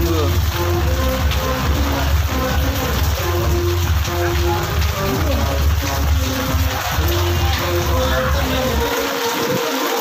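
Heavy rain pours steadily and loudly over a garden house during an opening-day gathering, drumming on surfaces in a dense, unbroken hiss while people shelter nearby.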